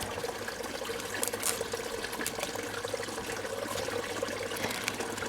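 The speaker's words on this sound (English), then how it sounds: "Rinse it under the tap." Garlic being rinsed under a running kitchen tap, a steady hiss of flowing water with light splashing and trickling throughout, close and continuous with no voices.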